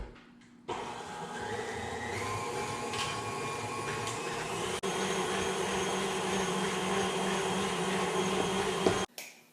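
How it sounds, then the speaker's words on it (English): An electric mixer beats butter, sugar and an egg together for cookie dough, a steady motor whine with a rattling drone that starts abruptly, shifts slightly in pitch midway and cuts off near the end, heard alone. "once I start beating this together, then I can slowly add my dry ingredients."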